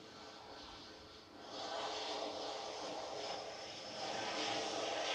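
A Boeing 737 MAX 8 jet departing Manchester Airport, a faint distant engine whine and rumble that grows louder in two steps as it builds.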